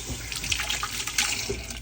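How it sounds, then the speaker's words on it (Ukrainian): Cold tap water runs steadily into a sink as soup bones for borscht are rinsed under it, a close, continuous splashing with small irregular spatters and no voices. "Промиваємо ми кості на борщ"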